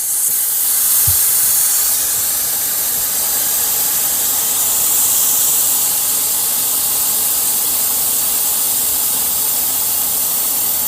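An Airacuda Max PCP air rifle, shown in .22, .25 and .30 caliber, has its compressed air dumped during disassembly: one loud, steady hiss rushes out continuously for the whole stretch, close and alone, with no speech.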